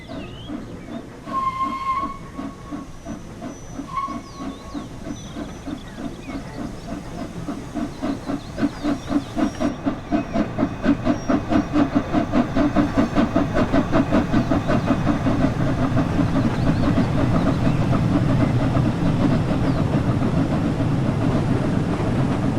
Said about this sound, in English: Here the locomotive is seen departing Norton with its very large, short 4-coach rake.